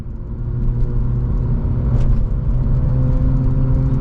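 A Mazda RX8 rolls through night city traffic between Brooklyn and Queens, a steady low engine hum and road rumble heard from inside the car, with a brief faint click partway through and no voices.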